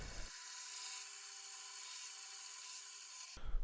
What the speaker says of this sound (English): Next I need to cut excessive plywood with my jigsaw and a bandsaw.